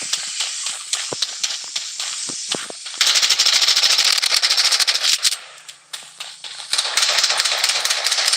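Rapid bursts of automatic gunfire in the battle royale video game Blood Strike, loud and close, dense rattling volleys nearly filling the clip with a few brief gaps.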